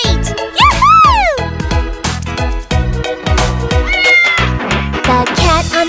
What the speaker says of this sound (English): The cat on the bus goes meow, meow, meow, all through the town.